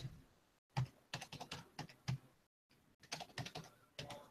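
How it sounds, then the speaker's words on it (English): Numbers are tapped into a calculator in quick, irregular clicks and presses with short pauses between bursts, close and quiet. "If you type this into your calculator"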